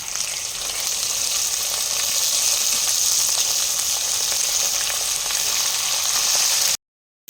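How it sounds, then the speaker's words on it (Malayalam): Marinated chicken pieces hit a hot pan for chicken curry, setting off a loud, steady sizzle and crackle that fills the whole stretch, then cuts off abruptly near the end. "ഇനി അടുത്ത് നമ്മൾ ചിക്കൻ ഇട്ട് കൊടുക്കുകയാണ്."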